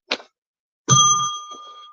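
Bicycle-style bell struck once with a bright, ringing ding that sustains and slowly fades, preceded by a brief faint knock.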